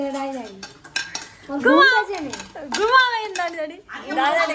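Pots and utensils clink and clatter in a home kitchen while khichuri is cooked, the short metallic knocks scattered beneath loud, lively voices of adults and children talking.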